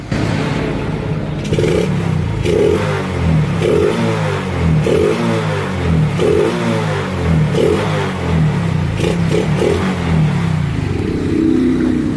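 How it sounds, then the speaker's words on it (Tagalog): A motorcycle engine idles steadily with its air cleaner removed, a loud close-up putter with a regular pulsing rhythm and mechanical clatter, no talk. "papakita ko sa inyo na mawawala na yung pagpuputol-putol ng andar ng kanyang motor"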